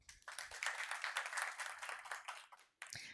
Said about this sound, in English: we are going to applaud for you